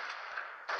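Tracer-round gunfire in a weapon-building video game comes through as faint, noisy blasts blurring together, then a sharper burst near the end, with no talking.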